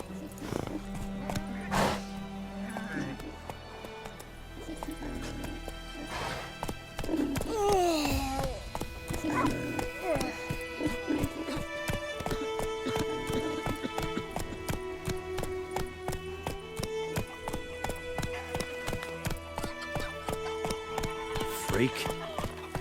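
The horse Roach gallops with rapid clip-clop hoofbeats and neighs in The Witcher 3, the hooves drumming steadily beside music and voices talking.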